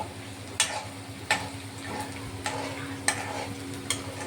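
Onion frying in a pan for egg bhurji, with a low constant sizzle and five sharp stirring clacks spaced about a second apart, close and clear.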